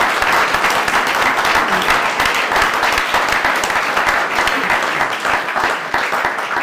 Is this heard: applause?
yes